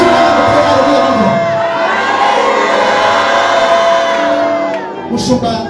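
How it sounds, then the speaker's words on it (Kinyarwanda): A church congregation raising loud, sustained crowd noise of cheering and shouting throughout, with dense layered voices that ease slightly near the end, consistent with worshippers applauding and calling out hallelujah. "Mukomere Imana amashyi. Abakira ngo mutere haleluya numve."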